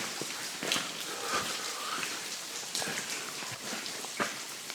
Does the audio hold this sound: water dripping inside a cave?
yes